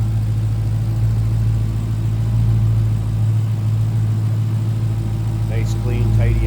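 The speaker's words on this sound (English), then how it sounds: "There it is, that supercharged Hemi." The supercharged Hemi V8 of a 2022 Dodge Challenger SRT Hellcat in Octane Red idles with a deep, steady low rumble that continues throughout, while someone talks over it.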